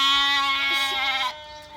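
A single sheep lets out one long, loud, wavering bleat close by, ending abruptly with quiet farm ambience after it.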